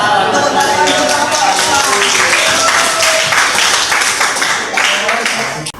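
A high school class claps for a group of students, with dense, steady applause from many hands held for several seconds before tapering off, and voices mixed in.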